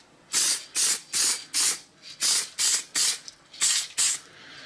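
Short bursts of a spray paint can coat a British car jack during restoration, about ten close, loud hissing sprays in a steady rhythm with brief pauses between.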